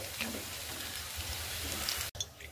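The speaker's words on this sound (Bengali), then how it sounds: "ঝাঁঝরির সাহায্যে আমি তেলটাকে ঝারিয়ে উঠিয়ে নেব" Hot oil crackles and sizzles as fried pieces for chicken biryani are lifted out with a perforated slotted spoon, a dense close frying hiss broken by a brief gap and a few light scrapes.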